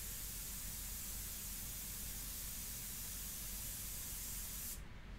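Airbrush spraying India ink onto paper for a portrait, a steady close hiss that runs without a break and cuts off sharply just before the end.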